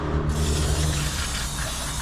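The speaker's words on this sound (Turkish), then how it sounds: "Bu da balata spreyi. Balatanıza sıkıyorsunuz." A continuous hissing aerosol spray of brake cleaner onto motorcycle brake pads runs steadily for about two seconds, close up, over a low mechanical hum.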